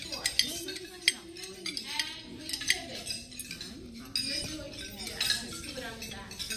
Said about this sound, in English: Let's scoop some more mashed potato on the back.